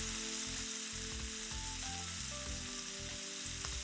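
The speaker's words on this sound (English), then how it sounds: "Add the pork tenderloin in a single layer" Pork tenderloin sears in oil in a Dutch oven heated to 575 degrees on a Nuwave Duet Top Pro, with a continuous hissing sizzle beneath louder background music.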